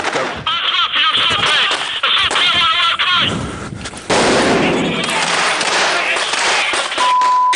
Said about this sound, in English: The stun grenades and the gunfire are supposed to disorientate the enemy.